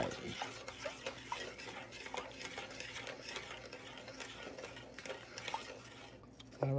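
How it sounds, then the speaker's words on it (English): Walnut praline being stirred in a pot, a soft irregular scraping and ticking of the spoon against the pot, faint and close, continuing steadily with quiet room sound around it. "I'm still stirring"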